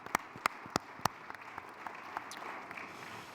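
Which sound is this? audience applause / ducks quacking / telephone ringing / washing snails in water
audience applause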